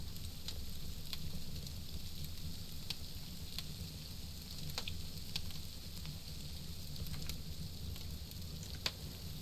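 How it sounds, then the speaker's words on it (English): Food sizzling as it cooks in the survival video game SCUM, a steady, soft crackling hiss with scattered faint pops running continuously throughout. "I hear it sizzling a little bit more now."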